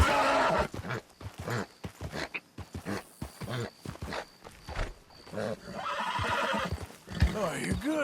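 In the game Red Dead Redemption 2, a newly tamed horse whinnies loudly several times amid hoof clops, while someone talks over it.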